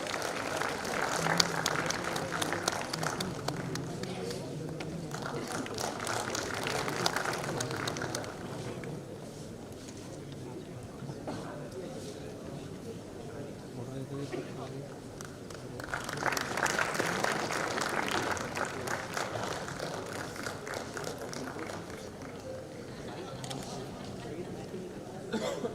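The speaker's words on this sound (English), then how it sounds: "A big round of applause while we welcome our chief guest." A crowd at an innovation council regional meet claps in sustained applause welcoming a chief guest, swelling, easing off, then rising again, with murmured chatter running underneath.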